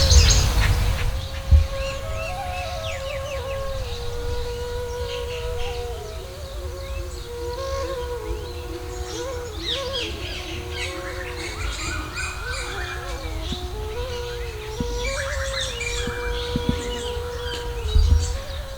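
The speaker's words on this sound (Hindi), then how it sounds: "पक्षियों की आवाज़, ठंडी ठंडी हवा।" Many birds chirp and tweet continuously in a quiet forest grove at Tapovan, with varied calls near and far over a soft insect-like buzz and cool-air hush, and no talking.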